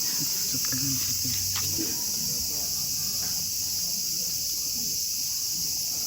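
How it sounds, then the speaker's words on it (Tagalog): Insects chirp loudly and continuously at a summer campsite in Japan, forming a steady high shrill drone, while soft voices and low camp noises sit underneath at the start. "maingay yung mga insekto"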